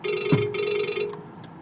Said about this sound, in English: that was a telephone call